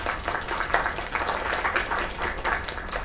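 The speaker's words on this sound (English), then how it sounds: "Another round of applause." An audience applauds a singer after a performance, steady dense clapping from a crowd that continues throughout without pause.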